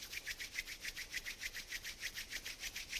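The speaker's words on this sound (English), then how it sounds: "Rub your hands. Rub the palms, create heat in the palms." Palms rub briskly together in a steady back-and-forth rhythm, close and soft, with a dry swishing texture and no talking.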